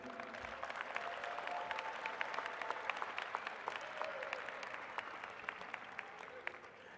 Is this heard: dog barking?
no